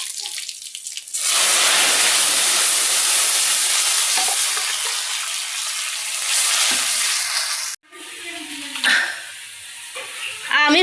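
Dal tempered in hot oil gives a loud, steady sizzle that crackles for several seconds, then cuts off and returns quieter and more broken, with a few sharp clinks.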